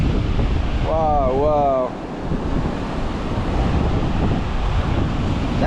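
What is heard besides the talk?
waves and wind on an empty beach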